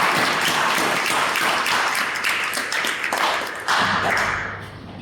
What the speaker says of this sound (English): let's welcome with a big round of applause today's host